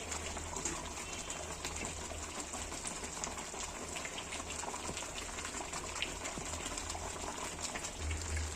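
Fish curry broth boils in a pot on a stove, a steady soft bubbling and gurgling that stays quiet and continuous throughout, with no talking.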